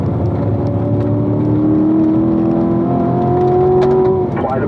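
Race car engine at Spring Mountain track accelerating as power is squeezed on, a loud steady rising drone with climbing pitch throughout, near and continuous, over faint background voice.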